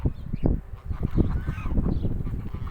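Chinese geese honk loudly and repeatedly at close range near goslings, a run of harsh overlapping calls with short gaps.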